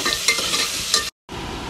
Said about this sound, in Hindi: ये ऑयल मेरा गर्म हो चुका है और ये मैंने 2 मीडियम की प्याज डाली हूँ और इसको हल्का सा अच्छा सा ब्राउन कर लेंगे